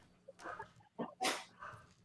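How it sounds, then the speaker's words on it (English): A dog barks a few times at some distance, the short sharp barks standing out briefly over quiet room sound during a live stream. "there goes the dog"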